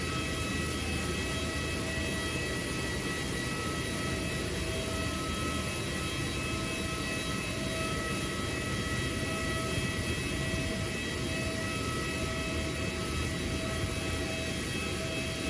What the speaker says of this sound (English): as another aircraft lifts off into the bright morning sky